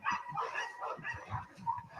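A protection dog in bite-sleeve training gives a quick run of close yips, short barks and whimpering noises, busy and uneven across two seconds.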